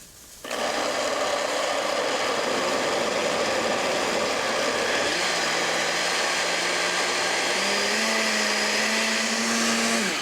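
A blender purees pesto seasoned with black pepper and salt, its motor kicking on loudly after a brief pause and running in a steady, dense whir for about ten seconds.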